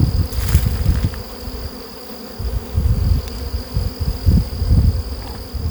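Honey bees buzzing close by on a hive frame in a steady swarm drone, with individual wingbeat hums swelling and fading, plus a thin high whine throughout.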